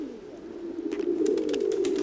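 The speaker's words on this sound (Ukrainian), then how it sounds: "Вон голубка, вона якраз знесла яйця." A female pigeon that has just laid eggs coos in a steady, low, continuous voice close by, growing slightly louder, with soft rustling and shuffling in the loft behind it.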